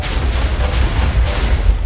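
A cannon shockwave blast in a Minecraft Jujutsu Kaisen mod, a loud, rumbling explosion with sustained booming low-end roar and scattered pops across the whole stretch.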